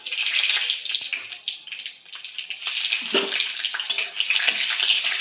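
Nigella seeds and green chilli sizzling in hot oil in a hot kadai, a steady close hiss of frying with crackling pops throughout, no talk.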